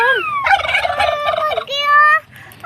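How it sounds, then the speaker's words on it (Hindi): Turkey gobbling loudly and close up among Aseel chickens, a rapid warbling run followed by a second gobble, with no one speaking. "ये जो है ना असील और टर्की यहाँ पे पार्टी एंजॉय कर रही है"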